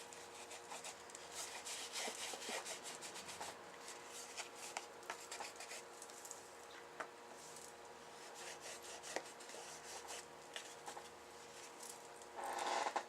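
Colour paste is rubbed over a crafted piece in a quiet room, giving soft, continuous scratchy rubbing strokes with faint clicks.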